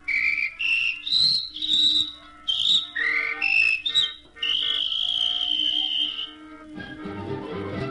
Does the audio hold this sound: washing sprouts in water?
no